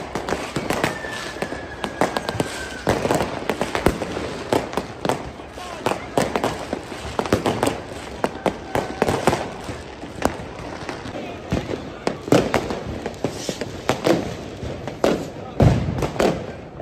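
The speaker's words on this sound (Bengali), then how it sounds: "জার্মানির প্রত্যেকটি শহরে আসলে এরকম আতশবাজি দিয়েই আসলে নিউ ইয়ারকে স্বাগতম জানানো হয়।" Dense New Year's Eve fireworks and firecrackers on the Reeperbahn in Hamburg, Germany, crackling and booming almost nonstop, with sharp close bangs among a roar of distant blasts and crowd voices underneath.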